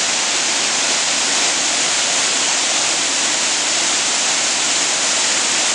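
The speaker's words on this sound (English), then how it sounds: "Here's the creek coming on down through the woods." A creek runs down through wooded hills toward a waterfall, giving a steady, loud, full rush of flowing water that holds unchanged throughout, with no voices.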